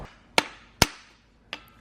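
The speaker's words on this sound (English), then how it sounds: "you can just beat it off with a hammer" Hammer blows beating a center support bearing off a vehicle driveshaft: three sharp metallic strikes, spaced apart, close and loud, with no talking.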